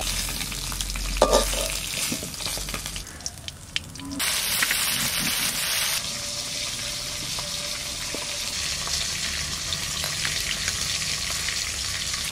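Pieces of kalbasu (kalibaus) river fish frying in hot oil in a home kitchen, a continuous loud sizzle with occasional stirring and scraping clatter, no talking.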